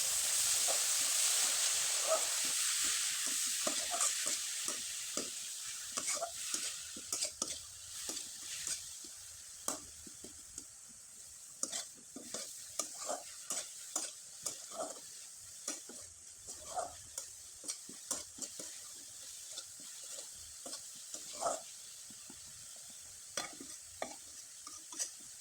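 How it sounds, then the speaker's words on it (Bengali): Grated coconut filling being stirred and dried out in a pan for palm-fruit pitha: a hiss fades over the first seconds, then repeated close scraping and knocking strokes of the spatula come in an irregular rhythm. "এখন এখানে কিছুটা পরিমাণে নারকেল কোরানো দিয়ে দিব। আর খুব ভালোভাবে নেড়ে চেড়ে শুকনো শুকনো করে"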